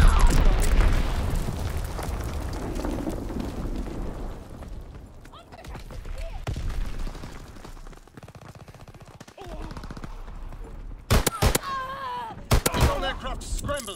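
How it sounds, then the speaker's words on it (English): Bomb explosions and gunfire in the World War II shooter game Call of Duty WW2 boom and rumble heavily at first, then fade to scattered bursts, with sharp loud shots near the end and voices speaking. "Enemy bomb incoming. Get to cover."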